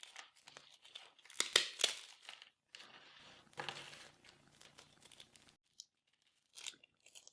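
Dry stale bread cut into small crumbly pieces by hand, giving quiet bursts of tearing, crackling crunches spread across several seconds, separated by short silences.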